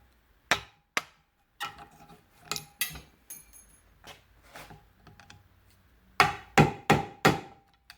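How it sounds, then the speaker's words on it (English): Sharp metallic taps of a hammer striking a mechanic's pick to pop C-clips off a vehicle U-joint, a few spaced blows then a quick run of four harder strikes, close and isolated. "we just use a normal mechanic's pick here and a hammer"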